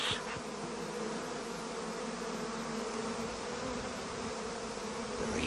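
Honeybees buzz in a hive as a steady, dense drone, holding an even level throughout with no other sounds.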